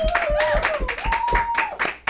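A small studio audience on a sports talk show claps in quick, uneven bursts beneath people talking, close and fairly loud.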